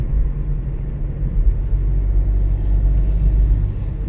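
A Renault Clio with a 0.9 TCe turbo petrol engine climbs a steep ramp, a steady low engine rumble and drone heard from inside the car, fairly loud and even, with no talk.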